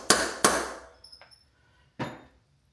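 Two sharp metallic hammer strikes close by, driving a tool onto a broken cylinder head stud on an SR20DET engine, followed by a few light taps and a final single blow, with quiet gaps between.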